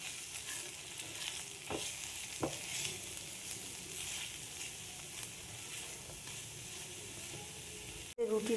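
Leftover roti breakfast ingredients with chaat masala mixed and stirred in a pan, making a low, continuous frying hiss with occasional soft scrapes and taps, then a sudden cut near the end.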